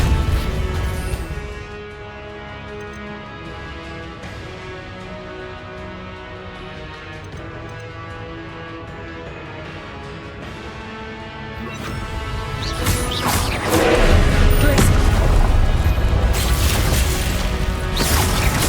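Spell combat in Hogwarts Legacy, with magical impacts and clattering mechanical noise building into a loud crashing burst of Confringo-style explosions near the end. No speech is heard.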